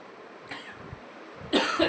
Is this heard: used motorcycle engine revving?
no